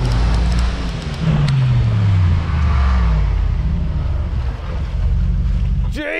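A 585-horsepower Mercedes-AMG G63 accelerates hard in an off-road race against a Jimny and a Jeep Wrangler, its loud engine roaring steadily with a rising pitch sweep and rumbling close by, then ending with a sharp burst.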